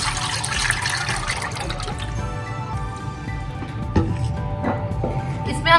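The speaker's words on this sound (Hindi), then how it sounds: "इसमें हम थोड़ा सा पानी और डालेंगे" Water pours and splashes into a cooking pot for kadhi, a running liquid stream with drips and a few clinks near the end.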